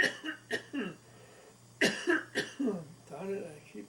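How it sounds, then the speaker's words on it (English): A few sharp coughs near the start, then a burst of harsh coughing and throat clearing, close and loud, with brief quiet gaps between. "I keep coughing"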